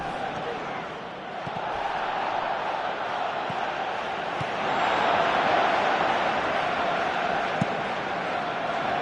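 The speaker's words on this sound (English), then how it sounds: "Crowd appreciates good football all round there." Football stadium crowd in a video game featuring Cristiano Ronaldo, a steady broad roar of many voices that swells midway and holds loud, heard alone without commentary in the clip.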